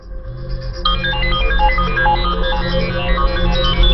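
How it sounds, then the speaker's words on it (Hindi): A mobile phone ringtone plays loudly from inside a pocket, a bright repeating electronic melody that swells in after a brief soft start and continues steadily. "किसकी बज रही है? आपकी जेब से आवाज आ रही है बॉस।"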